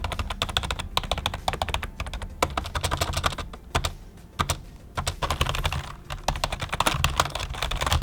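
Rapid, soft typing on a quiet Razer Deathstalker Expert membrane gaming keyboard, a dense stream of muted key presses with brief pauses, close and fairly quiet.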